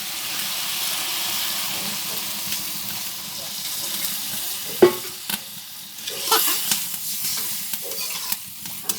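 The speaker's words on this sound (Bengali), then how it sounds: "ভালো করে নাড়াচাড়া দিয়ে দিতেছে" Vegetables for a village-style rohu fish curry with fresh stem greens are stirred in a pan over a clay stove, giving a close, steady scraping and faint sizzle with one sharp utensil knock midway and a few louder clatters toward the end.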